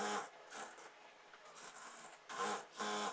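A sewing machine stitches a straight seam on lined pants, with short bursts of running separated by brief pauses, close and moderately loud, no talking.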